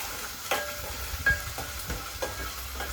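Onions fried with a little ginger paste being stirred in a pan for a ridge gourd curry: a steady sizzle runs under repeated scraping strokes of a spoon against the pan, close and fairly loud, with no talking.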